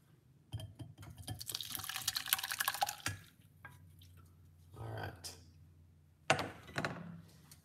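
A ginger, honey and lemon drink is poured in several bursts of splashing liquid, with pauses between pours and some talking.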